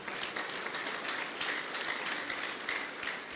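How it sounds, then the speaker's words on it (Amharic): Hands clapping together in a church congregation after a sermon point, a dense, steady patter of many people applauding that fills the space and holds at an even level throughout. "እስቲ አጨብጭቡ የገባው ሰው።"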